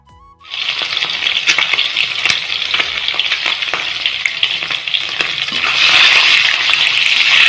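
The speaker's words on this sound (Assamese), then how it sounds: "আৰু ডিমকেইটা ফ্ৰাই হৈ গৈছে।" Boiled eggs coated with salt and turmeric fry in hot oil in a pan, a loud, close, continuous crackling sizzle that starts abruptly and grows fuller and louder toward the end.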